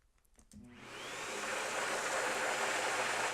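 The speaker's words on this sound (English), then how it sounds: "what I'm calling the vacuum cleaner or the Hoover test" A household vacuum cleaner starts with a few quiet clicks, then spins up into a loud, steady, hissing whir that rises and holds at full power.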